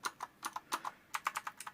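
Fingers type on a budget RGB mechanical keyboard with blue switches, giving a quick run of crisp, clicky keystrokes in uneven bursts with a short pause in the middle, close and fairly quiet, with no talking.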